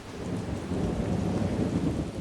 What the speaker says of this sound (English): But then, the rain began.